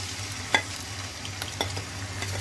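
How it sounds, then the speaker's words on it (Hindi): Onions fry in oil over a low-to-medium flame with a soft, steady sizzle and a few sharp spoon taps against the pan, quiet and close. "प्याज को 4 से 5 मिनट के लिए फ्राई करूँगी लो टू मीडियम फ्लेम पे"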